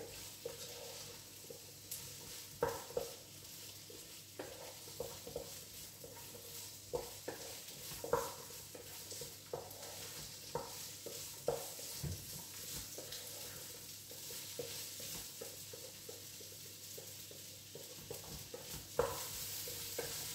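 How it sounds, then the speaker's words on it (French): Chorizo browns in a pan for a chickpea stew, a soft steady sizzle broken by frequent stirring clicks and scrapes, fairly quiet and close, with no voices. "on fait dorer le chorizo"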